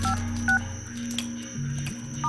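A telephone number is dialed on a keypad, producing a quick series of distinct DTMF tone beeps, close and clear, with no one speaking.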